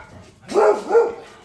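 A dog barks twice, close and fairly loud, two short woofs about a third of a second apart, with quiet surroundings.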